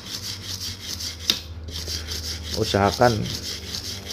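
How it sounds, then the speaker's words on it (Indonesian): A part of an RX King motorcycle is rubbed and scrubbed, giving steady rasping friction with a sharp scrape and a quick run of strokes near the end, close and loud, and a brief word spoken over it. "Kawan-kawan tinggal gosok menggunakan ini."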